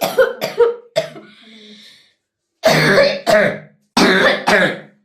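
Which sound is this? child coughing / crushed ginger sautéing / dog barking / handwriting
child coughing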